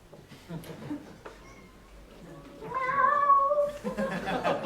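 A cat in a four-player cat shooting video game meows, a long wavering call rising out of quieter scattered game noise, with a voice speaking faintly before it.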